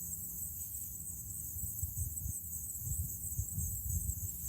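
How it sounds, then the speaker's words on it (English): Pennsylvania fall crickets chirp in a continuous high, even trill outdoors, faint and steady throughout, over a low rumbling background with no talk. "It's just Pennsylvania fall crickets."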